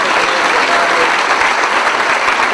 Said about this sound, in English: let's give them a big hand for everything